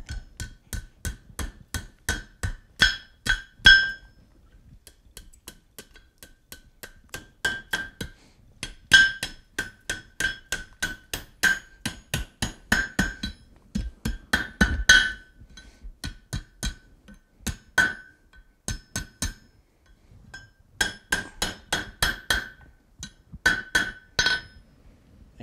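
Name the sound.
hammering a hot iron J hook on an anvil horn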